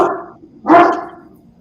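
A dog gives two loud, close barks, a longer one at the start and a sharp second bark a moment later, heard clearly with nothing else around them.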